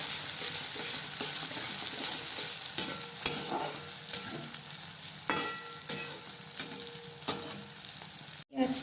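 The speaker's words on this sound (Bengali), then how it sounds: "পেঁয়াজটা লাল করে ভাজা হয়ে গেছে" Onion frying in hot oil in a pan with bay leaf and dried red chilli, a steady crackling sizzle throughout, broken by several sharp scraping stirs of a spatula against the pan.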